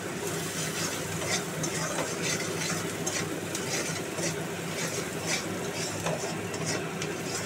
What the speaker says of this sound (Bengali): পেঁয়াজ রসুনটা বেশ লাল লাল করে ভাজা হয়ে গেছে।